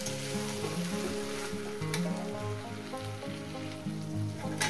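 Vegetable chorchori cooked with katla fish roe sizzles and crackles steadily in a pan, close and continuous, mixed with a faint tonal melody in the background.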